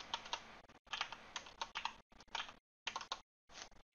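Fingers type on a computer keyboard in quick bursts of close, crisp clicking, broken by short pauses between words while a video game is being built.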